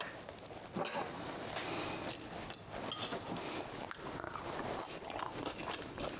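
Close, quiet crunching of someone biting and chewing crisp fried potatoes (German Bratkartoffeln), several soft crunchy bites in a row without speech.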